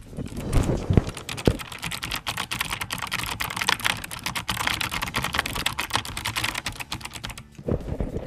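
Fast, continuous typing on a COX CK700 mechanical keyboard with linear optical switches, close up, with dense clacking keystrokes and a brief pause near the end.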